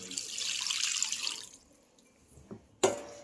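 Water splashing into a pot while making ghee from butter, a steady close rush of running water that cuts off midway, followed by a couple of faint knocks and one sharper clatter.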